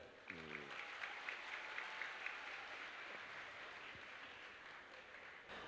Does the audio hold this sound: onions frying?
no